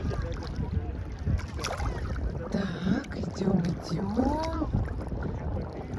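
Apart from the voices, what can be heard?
sea waves around a person wading chest-deep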